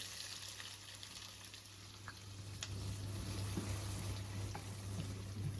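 Onions and green chillies frying in a nonstick wok, a steady close sizzle with a low hum underneath, growing slightly louder partway through.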